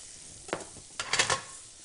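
Garlic and chili go into butter in a pan, giving soft bursts of sizzle and stirring scrapes, two or three quick clusters close up with no voices.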